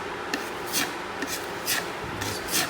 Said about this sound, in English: A little bit of sandpaper and no one will ever know it was there.